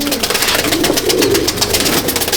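Young Madrasi pigeons coo in a close, loud, continuous murmur, overlapping calls repeating without pause.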